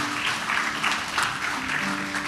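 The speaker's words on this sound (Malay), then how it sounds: "berikan tepuk tangan untuk Tuhan" Church congregation applauding at a baptism service, steady full-room clapping that carries on throughout, with a faint tonal hum beneath it.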